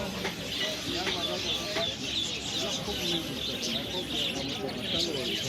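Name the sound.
small pet birds chirping at a Kabul bird market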